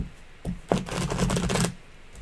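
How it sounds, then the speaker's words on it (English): A thick deck of slippery tarot cards being shuffled up close: a quick riffle of dense, rapid flicking clicks after a couple of sharp taps, with no talking. "It's a thick deck, and they're slippery, but they shuffle really well."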